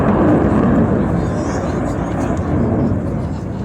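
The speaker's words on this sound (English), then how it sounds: "the F-35 is just passing by, and it's so amazing. You can hear it now." An F-35 fighter jet passes by at the Farnborough Airshow 2016, a loud, broad roaring rush that is strongest at first and then slowly fades as the aircraft moves away.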